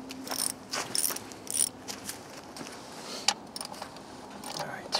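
A ratchet backs out small 8 mm bolts holding the power steering pump on a 2002 Chrysler Town and Country minivan, giving short bursts of close, quick metallic clicking with pauses between them.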